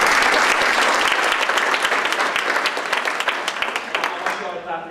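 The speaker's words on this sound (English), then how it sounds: "But I really want to give you guys an applause." An audience at a forum applauds, a loud, dense burst of many hands clapping with individual claps standing out, fading slightly toward the end.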